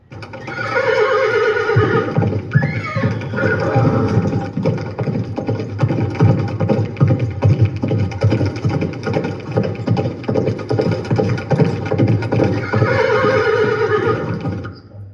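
A large black horse neighs and whinnies loudly through a riverside scene, with a long rising whinny near the start and repeated snorting calls over a steady low rumble, no talking.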